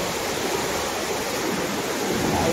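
Floodwater from the swollen Ghod river pours over a small village weir, making a dense, steady roar without a break, heard close and loud.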